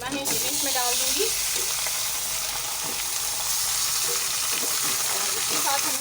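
One kilogram of hand-chopped minced meat fries with onions in a karahi, a steady loud sizzle with occasional stirring scrapes throughout, while someone talks intermittently over it.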